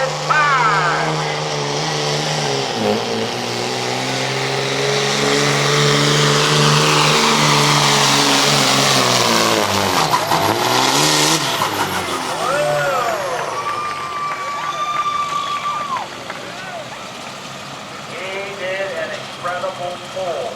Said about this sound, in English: Incredible pull, but the truck kind of snuffed out there at the end.